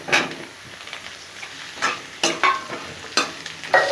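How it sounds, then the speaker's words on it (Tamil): Chopped pumpkin sautés with onion and dried chillies in a hot pan, a steady sizzle broken by a handful of sharp scraping stirs of the spatula, close and clear with no talking. "வெங்காயம் லைட்டாக வதங்கினதும் கட் பண்ணி வச்சுருக்கிற பூசணிக்காவை உள்ளே போட்டுடலாம்."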